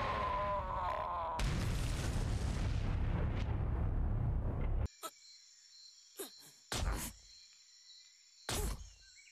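Bombs going off in a One Piece anime scene: a loud, dense rumbling blast for several seconds, then an abrupt cut to quieter high ringing tones broken by a few sharp bursts.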